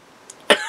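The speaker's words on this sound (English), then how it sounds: "excuse me, I still have a little bit of cough." One sharp, close cough bursts out after a tiny throat click, with no talking around it.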